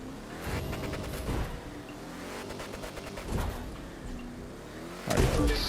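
Rough engine roar of an off-road vehicle in The Crew 2 driving through sand dunes, rumbling and surging with bursts of revving and crunching impacts, loud and continuous without speech.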